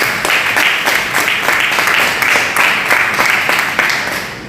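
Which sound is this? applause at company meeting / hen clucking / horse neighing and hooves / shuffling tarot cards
applause at company meeting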